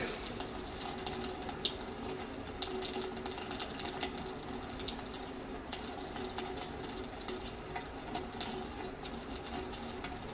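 A thin, steady trickle of water from a water heater drain, with faint splashy ticks and gurgles throughout, fairly quiet and close.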